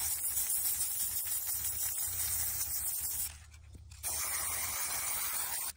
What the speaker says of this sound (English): just spray paint it with some gold paint or brass paint.